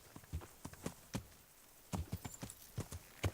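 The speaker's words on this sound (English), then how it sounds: "There's a horse." Horse hooves clip-clopping in the video game Kingdom Come: Deliverance, a few sharp, fairly close hoof strikes in two short bursts separated by a brief lull, with no speech over them.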